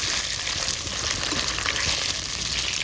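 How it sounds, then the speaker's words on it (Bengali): Fish frying in a pan outdoors on a cold winter day: a steady, close, continuous sizzle with crackling oil, unbroken for the whole stretch and no voices over it. "মাছগুলো প্রায় ভাজা হয়ে গেছে।"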